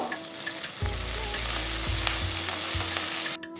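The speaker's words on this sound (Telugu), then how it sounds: "ఉల్లిపాయలని ఒక రెండు మూడు నిమిషాలు ఇట్లా సాటే చేసిన తర్వాత" Sliced onion, green chillies and curry leaves sauté in hot oil, a steady sizzle with scraping stirs over a low droning hum, close by and without speech.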